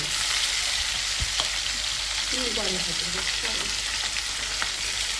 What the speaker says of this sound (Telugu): నేనైతే ముక్కలు ఈ విధంగా ఫ్రై చేసుకున్నానండి